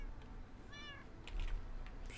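A single cat meows in Minecraft, a short rising-and-falling harmonic call about midway through, heard over a steady low background hum with faint clicks afterward.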